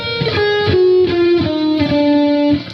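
Distorted electric guitar playing a fast sweep-picked lick, a quick descending run of picked notes, loud and close with no other sounds.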